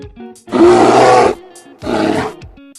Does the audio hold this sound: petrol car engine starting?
no